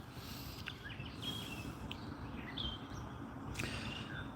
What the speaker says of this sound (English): You hear the birds? Yes, I have a lot of birds here.